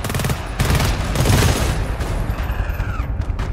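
M4 rifle fire in the co-op shooter GTFO, rapid loud bursts of automatic shots with heavy booming low end, continuous over a few seconds, then trailing into game effects, no clear talk.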